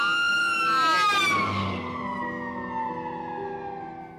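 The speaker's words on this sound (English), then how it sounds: "It's similar to the way a siren distorts as an ambulance races past us." An ambulance siren wails loudly as it rushes past, its pitch dropping sharply from the Doppler shift and fading as it moves away.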